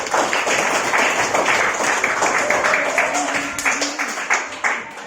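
Group applause in a classroom, a dense burst of clapping from many hands that carries on for several seconds and slowly thins toward the end.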